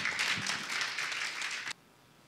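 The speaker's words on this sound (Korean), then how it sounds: "우리 큰 박수로 목사님 맞이하도록 하겠습니다." A church congregation applauds to welcome a pastor at a Daniel Prayer Meeting workshop, a steady, moderately distant wash of clapping that cuts off abruptly after under two seconds, followed by quiet room tone.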